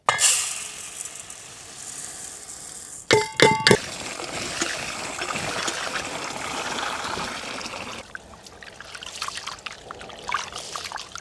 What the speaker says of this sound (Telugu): ఇప్పుడు మనం రెండు గ్లాసులు బాస్మతి బియ్యాన్ని రెండు మూడు సార్లు కడిగి ఒక అరగంట సేపు నానబెట్టుకుందాం